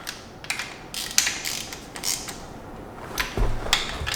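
Front cover bolts on an SR20 engine turned in by hand, a close, quiet run of ratcheting clicks and small metallic creaks in short uneven bursts, with a deeper knock near the end.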